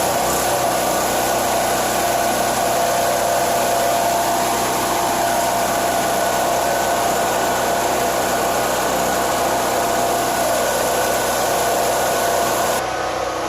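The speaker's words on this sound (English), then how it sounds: "Okay, so the generator is running." A dual fuel portable generator runs steadily at a constant drone, a loud unbroken engine hum with no speech over it.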